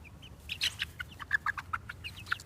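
A speckled Sussex hen clucks close by, a run of short, soft, bright notes spaced irregularly over a quiet background with low steady hum.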